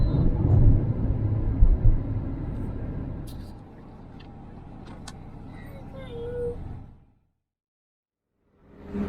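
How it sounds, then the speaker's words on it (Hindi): Dense road traffic on a highway near Surat rumbles and whooshes steadily as vehicles pass, then thins out and drops to near silence before picking up again. "इधर भी देखिए ट्रैफिक का हाल, क्या डेंस ट्रैफिक है"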